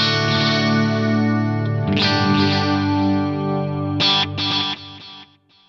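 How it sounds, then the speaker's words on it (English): Clean electric guitar through a Digitech Timebender delay pedal in digital mode: sustained chords ring out with crisp, repeating echoes, then a few fresh strums near the end before the sound cuts off. "this is what the digital mode sounds like with a clean sound"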